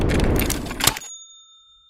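A bright bell ding used as a notification sound effect, one loud ring of about a second that stops abruptly and leaves a faint high tone dying away.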